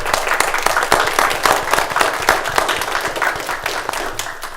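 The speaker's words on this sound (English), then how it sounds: "I'd say a round of applause for Director Briggs." A crowd applauds in a steady wash of claps, moderately loud and sustained for several seconds, with no clear speech over it.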